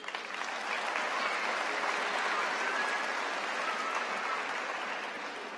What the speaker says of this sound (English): You may give them a round of applause